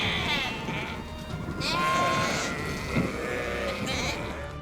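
Sheep bleat repeatedly at a farm breeding Hissar rams, several wavering calls overlapping near and mid-distance over steady barnyard background noise, with no talking.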